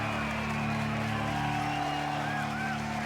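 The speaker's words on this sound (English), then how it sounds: "There's cheering." Crowd cheering from the Lego Rock Band video game swells at the end of a song, a steady, loud wash of cheers and whoops under a sustained musical tone.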